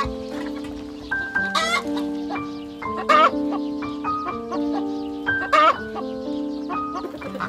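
Chickens on a farm whose flock of about 350 birds is being killed off give a few loud, scattered clucks and squawks over a steady tonal musical background.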